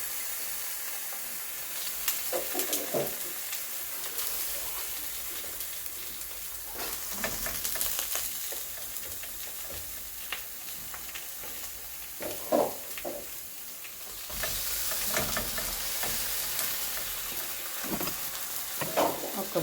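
Salted eggplant sizzles and fries in a pan, with intermittent scraping stirs coming in bursts over a steady hiss, fairly close.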